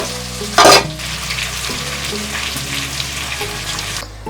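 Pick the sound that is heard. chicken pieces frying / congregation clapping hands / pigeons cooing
chicken pieces frying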